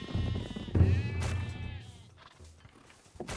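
Giant sheep in the ancient Greek strategy game Hegemony Gold give a close, wavering bleat, followed by a shorter second call and some low game noise.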